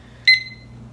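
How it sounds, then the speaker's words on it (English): A kitchen-style timer lets out a single short electronic beep as it is started for a paper chromatography experiment, a clear tone that rings briefly over a quiet hum. "So we're gonna start our timer going."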